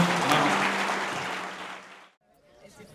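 Congregation applause to God during a church service, a brief wash of clapping that swells quickly and fades over about two seconds before dropping to near silence, with faint voices after.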